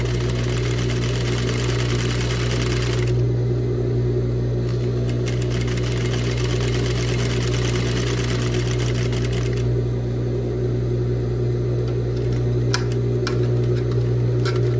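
A sewing machine runs a long gathering stitch with no backstitch along a blouse sleeve cap, a loud, continuous close-up whirring hum whose tone shifts briefly now and then.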